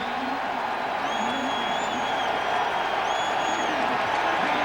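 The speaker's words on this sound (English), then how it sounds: "the crowd cheering Jim Miller's return" Stadium crowd at an NFL playoff game, Eagles at Bears, cheering quarterback Jim Miller's return to the field, a broad sustained roar with scattered whistles, steady and full throughout.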